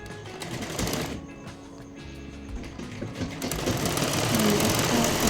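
A sewing machine runs steadily, stitching a finishing top seam that joins a small panel of a salwar. The motor drones continuously and grows slightly louder toward the end, with no voices.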